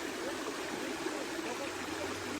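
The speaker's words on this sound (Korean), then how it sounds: "시원한 계곡물이 흐르고 있습니다." Cool mountain valley stream water flows steadily near a small waterfall on a Bukhansan trekking trail, a continuous broadband rush heard at moderate distance with no voices.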